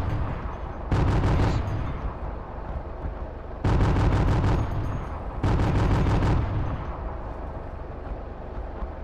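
An armoured personnel carrier's weapon fires in Project Reality, three loud, close bursts spaced a few seconds apart, with rumbling vehicle noise between them.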